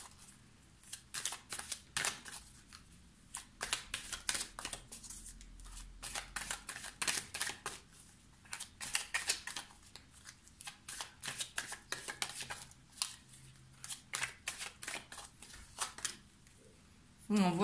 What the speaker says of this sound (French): je ne l'ai pas prise parce que j'ai pas assez battu les cartes